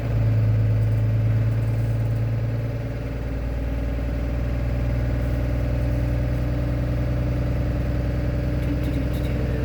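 A bus engine idles steadily up close, a loud, even low rumble with a constant mechanical drone and a slight shift in tone after a few seconds.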